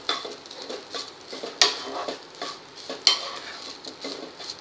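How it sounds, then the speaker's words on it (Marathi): Grated coconut is stirred and roasted in a pan for ukdiche modak filling, giving a soft, rhythmic scraping and gentle sizzle, with two sharper clinks of a utensil against the pan, close up and without talking. "हे थोडंसं 1/2 मिनिट असं खोबरं परतून घ्यायचं आहे"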